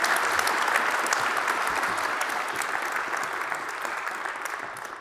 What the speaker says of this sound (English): Could we get a round of applause for Jaquelin, please?